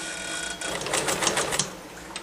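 A sturdy metal sewing machine stitches slowly over a thick jeans seam while hemming, giving a soft, faint run of rapid mechanical needle clatter that quickens and strengthens in the middle before easing.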